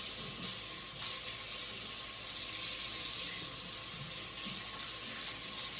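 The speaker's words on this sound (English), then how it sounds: "I'm gonna wash my hands quick." Tap water runs steadily into a sink while hands are washed in a kitchen during cooking, a soft continuous hiss and splash at low level with no talking.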